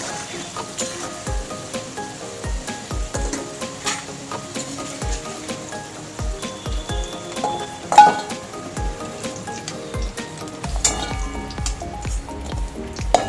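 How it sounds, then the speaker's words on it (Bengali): Potatoes frying in oil in a wok (kadai): a quiet, steady crackle with scattered pops and occasional clinks of stirring, close by and without talk. "আলু আমি লাল লাল করে ভেজে নিয়েছি এবার তুলে নেবো"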